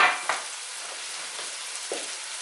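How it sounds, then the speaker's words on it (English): Dry rice browns in a paella pan, a soft crackling hiss with a few scraping stirs near the start and again later. "I'm going to brown it a little bit to release some of the starches."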